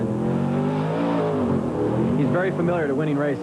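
A Julson Phillips off-road race truck in the 1998 BITD Terrible's Town 250 desert race revs hard close by, its engine pitch climbing and wavering steadily under continuous commentary.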